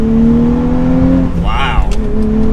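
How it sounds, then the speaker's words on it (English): 2023 Nissan Z Performance with a manual gearbox accelerating hard from a standstill, its engine note climbing steadily from inside the cabin, loud and close, with a brief harsher burst partway through. "so setting off now. In the Nissan Z, first off, wow, that's quick"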